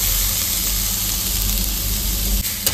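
Chopped onion sizzles and fries in a hot pan for a lentil dish, a continuous close crackling hiss with no talking over it.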